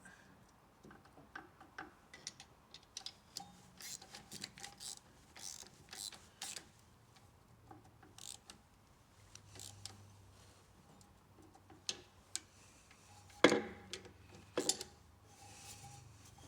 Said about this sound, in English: Get my socket out.